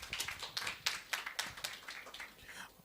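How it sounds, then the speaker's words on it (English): A room of people at a childcare learning forum applauds the CEO with brisk, fairly close clapping that rises quickly, holds for a couple of seconds, and then thins out. "A clap for her, please."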